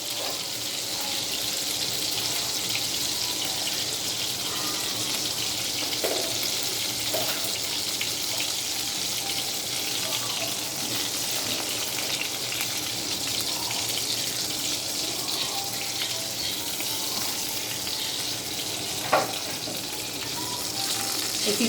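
Gola kebabs frying in hot oil, a steady, fairly quiet sizzle and hiss running throughout with a few faint clinks, and no voices.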